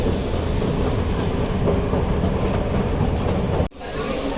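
A Delhi Metro Pink Line train runs at speed with a steady, loud rumble of wheels and carriage noise, dropping abruptly near the end as if passing a gap or entering a tunnel.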